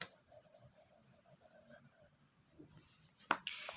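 Chalk or marker writes on a board in a classroom with a soft, scratchy rhythm of short strokes, faint and close, ending with a sharper tap and squeak.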